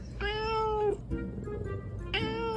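A chubby house cat gives two clear, close meows, the first longer, asking for a cat treat in the morning, with low room noise beneath and no talk.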